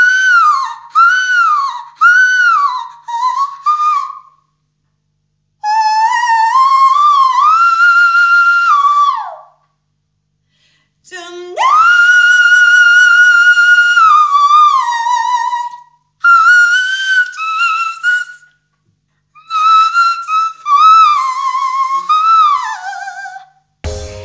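Mariah Carey sings in the whistle register, holding very high, piercing notes with runs, staccato leaps and slides across several long phrases separated by short silences, loud and clear with no accompaniment.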